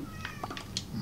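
A faint cat meows a few times in quick succession outside, sounding distant and thin against a quiet background hum.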